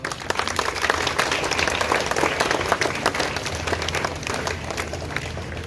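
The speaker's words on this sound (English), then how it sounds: "Please give a big round of applause for her." A school morning assembly audience applauds a ninth-grade student, a dense burst of many hands clapping together that holds strong before easing slightly toward the end.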